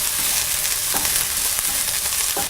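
A spoon stirs garlic and salt around a hot frying pan, a steady loud sizzle of frying running throughout with a few scraping strokes of the utensil against the pan.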